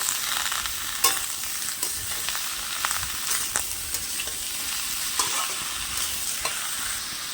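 Chopped pointed gourd (potol) frying in a pan, a soft continuous sizzle broken by regular spatula scrapes and clinks as it is stirred, no voices.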